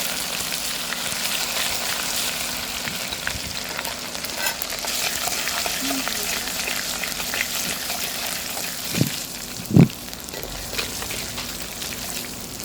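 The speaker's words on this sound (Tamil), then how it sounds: "நல்லா பொரியட்டும்." Ginger garlic paste fries in hot oil in a pan for fish curry, giving a steady close sizzle with stirring scrapes and a couple of louder clatters near the end.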